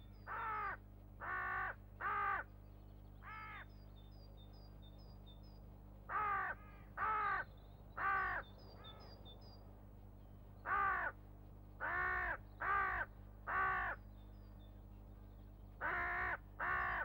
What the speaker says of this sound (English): Crows mob and pester him relentlessly to drive him from their territories.